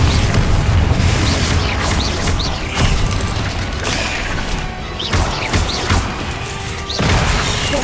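Fire spell blasts from Confringo in Hogwarts Legacy, several loud booming impacts with crackling tails recurring about every second or two amid dense game combat noise.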